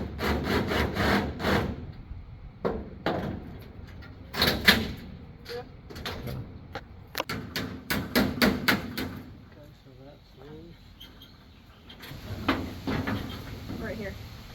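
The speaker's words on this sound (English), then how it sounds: "We're going to use a spot weld bit to try and get some of the spot welds out." Spot welds drilled out with a spot weld bit on the body of a 1963 VW single cab truck, coming as repeated short loud bursts of grinding and cutting over shop noise, with a person talking in between.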